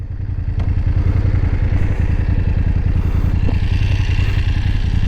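A BMW 850 GS motorcycle engine running up close, a loud, steady, rapid thumping beat at idle that holds evenly throughout, with no talk.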